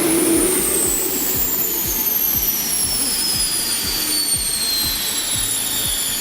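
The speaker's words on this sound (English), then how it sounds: "A rugged diesel engine feeding a brutal water jet propulsion system, blasting water out with raw, unfiltered force." A rugged T216 post-war diesel engine drives a water jet propulsion unit, roaring loudly and steadily at close range with rhythmic pulsing thumps and a high whining whistle sliding over the top throughout.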